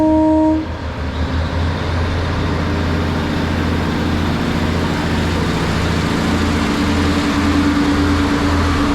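A diesel train pulls away from a station platform in North Yorkshire, a steady low engine rumble building and holding close by, with a brief horn-like tone at the start and no voices.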